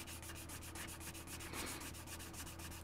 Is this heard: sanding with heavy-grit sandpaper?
yes